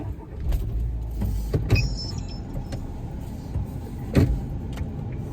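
Interior of a moving car: a steady low road and engine rumble runs throughout, with a brief higher whine near two seconds and a soft knock later. No one speaks.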